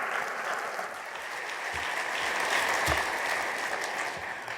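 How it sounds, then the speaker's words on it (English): Audience applause at an evening talk at Clemson, steady dense clapping from a large crowd filling the room, sustained at even loudness with no voices over it. "So I want everybody, if you would, give a great round of applause for Nathan Beasley."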